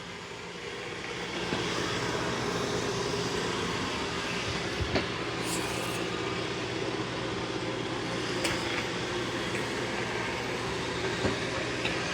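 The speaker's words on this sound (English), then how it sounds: "that's doing a great job of mopping and vacuuming" Dreame L40S Ultra robot vacuum and mop cleaning a floor, a steady loud whirring motor drone with broadband rushing noise, close and continuous, with a few faint clicks and bumps.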